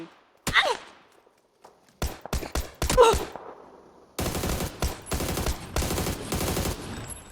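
PUBG gunfire: a single sharp shot, then a cluster of quick separate shots, followed by long sustained bursts of rapid automatic fire, loud and close, with no voices.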